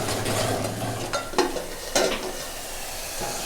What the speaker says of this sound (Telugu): మనం అప్పుడప్పుడు మాడిపోకుండా కలిపెట్టుకుంటూ ఒక 10 నిమిషాలు మగ్గాలి